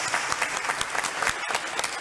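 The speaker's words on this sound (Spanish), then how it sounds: "Un aplauso." A crowd applauding steadily at a Catholic Mass, dense overlapping clapping at a moderate level with a brief cut near the end.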